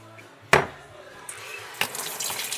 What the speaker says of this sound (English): So I'm going to put some water in that.